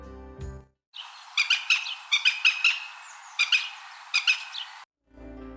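A Northern Goshawk gives a series of sharp, repeated calls in short bursts of two or three, clear and fairly close against a quiet background.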